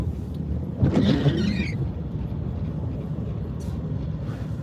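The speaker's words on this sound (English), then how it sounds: "the traffic is heavy here, that's for sure" Heavy road traffic passing, with one vehicle swelling loudly nearby before fading into a steady, continuous rumble of more distant cars.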